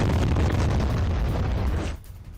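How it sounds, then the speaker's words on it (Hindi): A loud, roaring IED blast inside a Gaza tunnel rumbles with heavy low-end energy for about two seconds before cutting off abruptly to a quieter tail. "इजराइल का आईईडी से गाजा के टनल में कैसे किया गया विस्फोट,"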